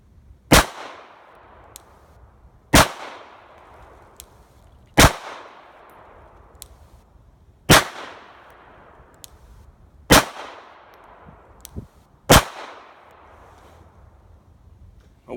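Six sharp Glock 42 pistol shots fired at a target, spaced roughly two to three seconds apart, each a loud crack with a short decaying tail and quiet gaps between.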